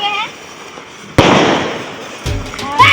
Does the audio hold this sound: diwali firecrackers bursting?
yes